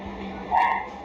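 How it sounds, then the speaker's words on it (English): A brief, faint whimpering cry from a dog somewhere in the distance, rising over a steady background hum. "A dog is heard crying somewhere in this clinic."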